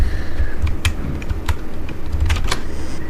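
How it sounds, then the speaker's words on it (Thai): A computer keyboard clacks up close during play of the horror game Home Sweet Home, with sharp, irregular keystrokes in small bursts over a low steady hum. "ท่านผู้ชมอาจจะได้ยินเสียงคีย์บอร์ดก็ขอโทษเลยนะ"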